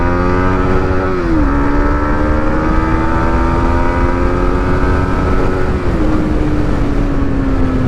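A 2025 Yamaha MT15 motorcycle engine drones loudly and steadily while riding, its pitch holding high before dipping briefly with gear changes and rising again.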